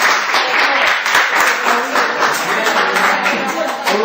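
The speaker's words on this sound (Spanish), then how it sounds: "Aplausos para Brian." A classroom of students applauds steadily for about four seconds, a dense, continuous clatter of many hands at moderate loudness with no pauses.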